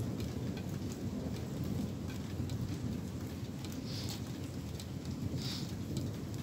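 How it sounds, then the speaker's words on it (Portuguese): Heavy rain from the west pours steadily in Porto Alegre after a lightning storm, a dense continuous hiss with a low rumble underneath, no voices. "Chuva forte vindo de oeste."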